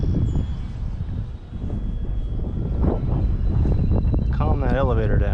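A Super DeFLATlon RC airplane flies slowly overhead. Its motor makes a steady drone mixed with wind buffeting on the microphone, and it rises into a wavering whine near the end while a person talks.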